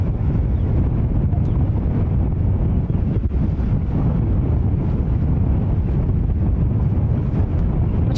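Strong wind at JFK airport, roughly 19 mph on a 45-degree afternoon, buffeting a microphone in a steady, loud, continuous roar without letup.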